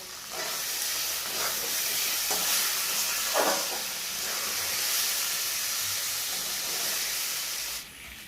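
Food fries in a pan as turmeric powder is stirred in: a steady, loud hiss and sizzle runs throughout, with a few scraping stirs, and then the sizzle drops away at the end.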